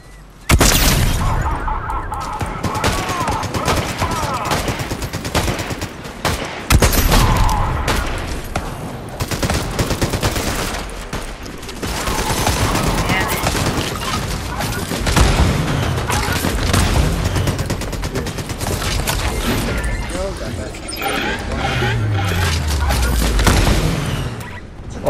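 Gunfire in the video game Fortnite: rapid bursts of shots and booming impacts, dense and loud throughout, with brief pauses between volleys and some shattering crashes.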